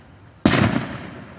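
A single firework goes off with a sudden loud crack, then a crackling, hissing tail that fades over about a second.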